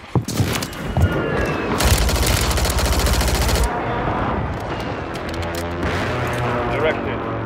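An airstrike in Call of Duty on Rebirth Island lands as a loud barrage of booming explosions mixed with rapid gunfire, then fades into rumbling and scattered shots, with radio voices speaking over it.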